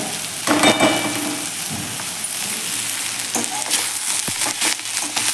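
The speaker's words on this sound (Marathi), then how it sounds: "आपली भेंडे देखील छान अशी परतून होत आलेली आहे" Okra (bhindi) sautéing in a pan for a smoky masala dish, a loud continuous sizzle with occasional bursts of stirring and scraping.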